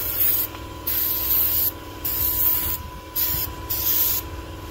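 Brake cleaner sprays from an aerosol can in a run of loud hissing bursts, about five blasts of roughly a second each with short gaps between them, close up and with no talking.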